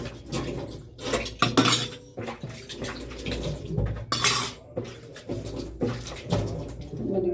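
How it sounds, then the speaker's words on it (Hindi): A few dishes and utensils are washed by hand in a home kitchen, with continuous clattering of pots, plates and cutlery, clinks and scrapes, running and splashing water, close and fairly loud, with no talking. "पहले 2-4 बर्तन में धो देती हूँ"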